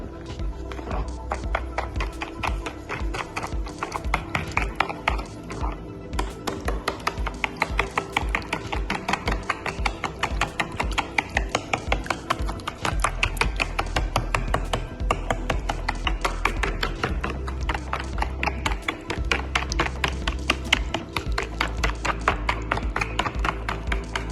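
A whisk or spoon beats banana pancake batter with milk in a bowl in a fast, steady stream of taps and scrapes that goes on without a break.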